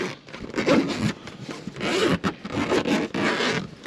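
A campervan window cover is zipped open in a series of close, raspy zip pulls, with short bursts and brief pauses and no speech.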